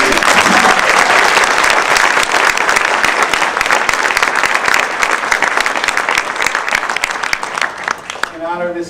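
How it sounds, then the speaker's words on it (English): An audience at a Maryland Women's Hall of Fame event gives loud, sustained applause for an honoree, dense clapping that fades slightly before a voice begins speaking at the very end. "I'd like to read a round of applause for tonight's honoree"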